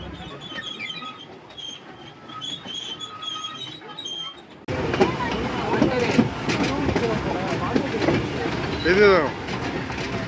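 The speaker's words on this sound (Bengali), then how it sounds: "আমরা এখন টয় ট্রেনে উঠে পড়েছি, এই ঘুরতে থাকবো পুরো নিকো পার্কটা ঘুরিয়ে" A toy train ride at Nicco Park amusement park rumbles along with rolling wheel noise and squealing, loud and close, while people talk over it.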